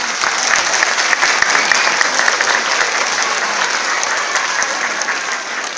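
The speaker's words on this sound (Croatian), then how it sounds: "mislim da oni zasluži jedan veliki, veliki aplauz" An audience at a St. Nicholas celebration in Sol claps loudly and steadily, a dense, continuous applause that holds its level for the whole stretch with no break.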